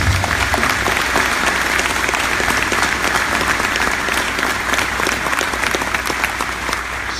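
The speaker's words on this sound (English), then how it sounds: "let's give another big round of applause for Joe Gainey" Warm applause from an audience at the 2017 Gainey Cup awards ceremony, honouring Joe Gainey, sustained and even for several seconds before tapering slightly.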